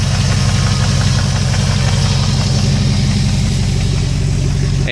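A 2001 Jeep Grand Cherokee 4.7 V8, first started after three months sitting with its muffler hanging from a broken clamp, runs at a loud, steady idle with a rough, pulsing low rumble close by.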